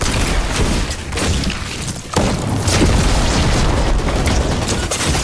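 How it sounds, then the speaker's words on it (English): A Thunderbolt of Zeus blast in the Fortnite video game booms with loud, dense crackling bursts, a brief dip near the middle before the roar resumes and sustains to the end. "What is that? A thunderbolt of Zeus."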